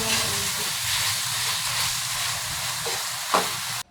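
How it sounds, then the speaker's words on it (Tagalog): Ground pork sautéing in a hot pan gives off a steady hiss and sizzle for a few seconds. A brief clink or scrape of stirring comes near the end, then the sound cuts off abruptly. "igisa lang natin ito ng maigi hanggang sa maging toasted yung pagkaluto"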